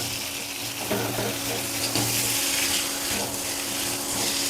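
Masala made with tomato sizzles and fries in a pan, with stirring scrapes over a soft, steady crackle.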